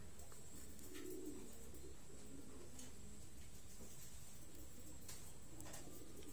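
Soft pigeon cooing rises now and then over a steady background hum and faint rustling; no one speaks.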